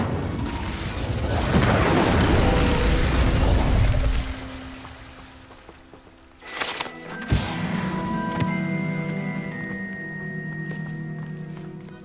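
The Incendio fire spell in Hogwarts Legacy erupts in a dense, roaring burst of flame lasting several seconds, dies away, then a sharp magical crack leads into a shimmering, ringing tail.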